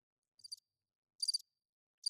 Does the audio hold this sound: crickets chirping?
yes